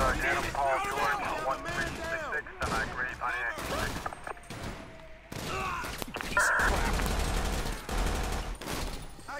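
Game gunfire from a police SWAT bank heist shootout in GTA 5 with the LSPDFR mod, with repeated sharp shots and bursts running continuously alongside speech and chaotic background noise.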